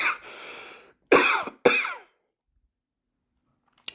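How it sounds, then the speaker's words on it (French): Someone coughs in a short burst, two sharp loud coughs close together after a rougher throat sound, followed by silence. "j'ai toussé"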